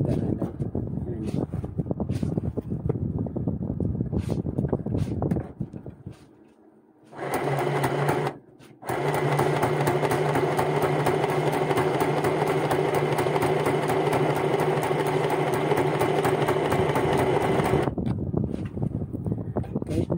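A light-duty home sewing machine stitches in a steady, continuous whir for about ten seconds, following a stretch of talk and a brief pause.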